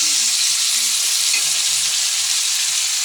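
Meat sizzling steadily in a hot pan of oil while cooking biryani, a dense, continuous close frying hiss with faint stirring clinks underneath and no talking.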